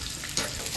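Mustard seeds, cumin and curry leaves crackle and sizzle in hot oil for a tempering, a brief close-up burst of dense frying hiss.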